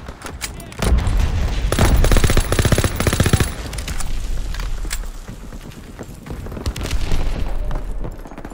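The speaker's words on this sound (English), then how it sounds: "Tossing out a grenade!" Call of Duty WW2 battle at the Rhine crossing at Ludendorff Bridge, where a grenade explodes in a loud heavy boom amid continuous machine-gun fire and gunshots, close and dense, with shouted voices faint underneath.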